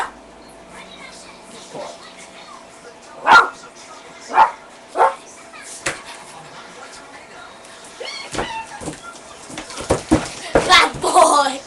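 A Pomeranian puppy gives several short, sharp yips and barks, spaced at first and then quicker and more clustered, while a person speaks encouragingly between them indoors.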